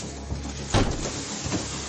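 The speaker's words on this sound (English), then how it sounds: "bust down the door." A police officer busts down a door: one heavy thud and crash lands near the middle, with a smaller knock just after, over a steady background hum.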